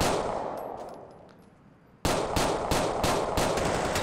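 Automatic gunfire in GTA 4 with the LCPDFR police mod: a sudden loud burst of rapid, evenly spaced shots begins midway, after a quieter stretch of game ambience.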